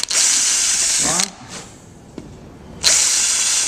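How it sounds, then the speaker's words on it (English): A power drill whines loudly, stops briefly for a short pause with a light knock, then whirs again at full speed. "all we need to do is drill our holes."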